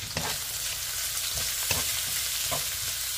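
Garlic and onion sauté in a pan with rendered pork fat, giving a continuous bright sizzle broken by several soft stirring scrapes and clicks.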